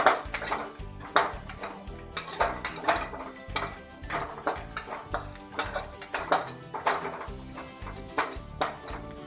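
A spoon scrapes and clinks against a pan while stirring a kappa mutta mixture of tapioca and egg seasoned with pepper, a repeated metallic tapping and scraping in an irregular rhythm, close and alone.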